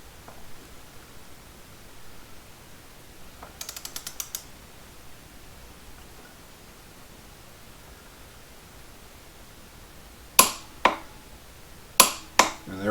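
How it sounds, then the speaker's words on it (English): A torque wrench tightens the front axle nut on a Harley-Davidson Street Glide, giving a short burst of ratcheting clicks, then a few distinct sharp clicks near the end against a quiet, hissy background. "Front axle is torqued in."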